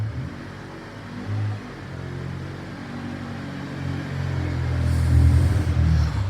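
A Honda Civic EG with a K-swap engine rolls into a dyno cell, its engine a low rumble that builds toward the end as the car pulls in, with no talking.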